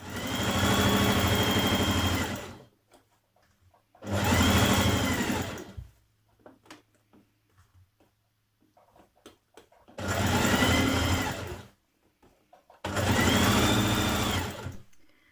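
A sewing machine stitching a seam on a summer dress with a 1.5cm seam allowance, running in four loud, steady whirring bursts of about two seconds each, separated by quiet pauses with faint handling sounds.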